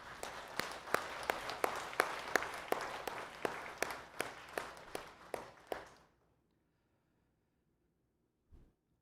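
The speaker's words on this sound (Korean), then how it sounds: "우리 하나님께 감사와 영광의 박수 올려드리길 원합니다." A church congregation at a Sunday service claps in a steady, even rhythm for about six seconds, a room full of hands beating together, then stops abruptly into near silence.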